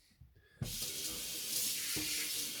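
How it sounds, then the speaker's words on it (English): Tap water runs steadily into a sink as a plastic container is rinsed beneath it, a broad continuous splash that starts abruptly and holds at a close, even level with a brief knock partway through. "Rinsing out the plastic container."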